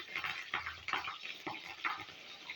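Green chillies dropped into hot oil with cumin in a kadhai, a steady moderate sizzle with crackling bursts and a few spoon stirs, no one talking.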